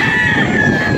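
A young rooster, one of the tethered stags just arrived from Rojas at a farm in Padre Garcia, Batangas, crows loudly and close, a single brief call.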